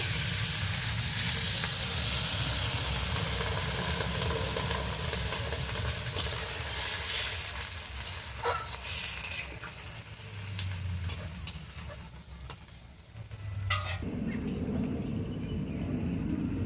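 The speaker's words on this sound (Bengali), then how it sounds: "নারকেলের জলটা দিয়েছি, এটা ফুটে উঠেছে।" Coconut water simmering in a pan of shrimp shukto gives a steady close sizzle and bubbling hiss with occasional stirring clinks, running alone without talk.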